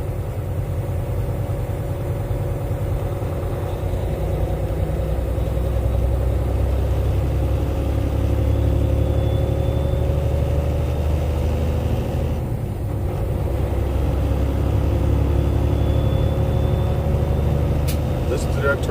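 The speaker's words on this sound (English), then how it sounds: "Listen to that turbo scream." A turbocharged car drives through snow, its engine droning steadily with a faint turbo whine rising above it, while a person talks over the sound.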